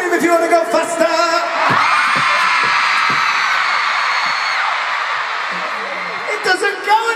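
A large concert crowd screams and cheers continuously at an arena show in Kansas City, a loud sustained roar of high-pitched shrieks that swells and slowly fades, with claps at the start and end.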